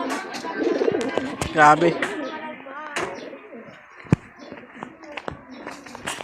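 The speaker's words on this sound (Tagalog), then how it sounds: "yung mga kalapatids oh" Pigeons cooing in a breeder's loft, soft repeated coos and a few chirps heard close by beneath a person talking.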